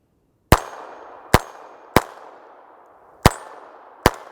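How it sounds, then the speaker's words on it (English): Five sharp, loud gunshots from a Taurus 942 revolver firing Federal Punch 22LR ammunition ring out at uneven intervals outdoors, each shot trailing off in a short decaying echo. "Let's do some shooting."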